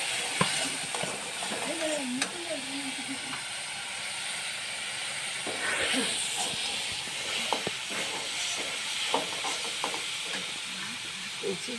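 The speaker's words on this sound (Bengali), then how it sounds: "এরকম একটু নাড়িয়ে নেবেন।" Red chili powder and cumin fry with spices in a pan while a spoon stirs them, giving a steady sizzle and hiss with scraping stirs throughout. A voice speaks briefly near the start.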